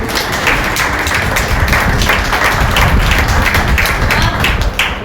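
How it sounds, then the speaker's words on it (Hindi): Steady applause from a crowd welcoming a guest at an inaugural session, many hands clapping continuously at a fairly loud level for several seconds. "आप सभी से निवेदन है कि जोरदार तालियों के साथ उनका स्वागत कीजिए।"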